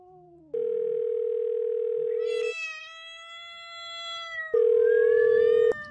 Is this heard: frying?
no